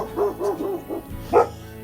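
A dog gives a quick series of short, close yips and barks, about four in a row, then one louder bark after a brief pause.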